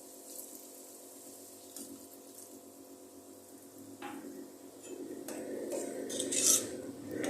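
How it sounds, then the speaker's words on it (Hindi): Water is poured from a glass into a cooking pot of meat for aloo gosht, a steady soft splashing pour that builds toward the end, heard alone. "अब हम 1 गिलास पानी का ऐड करेंगे ताकि गोश्त हमारा अच्छी तरह गल जाए।"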